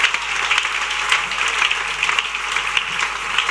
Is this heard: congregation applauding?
yes